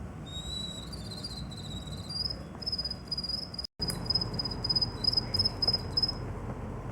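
Rapid high-pitched chirping pulses repeat in quick bursts, a voice imitating crickets, steady and close, with a brief silent gap midway.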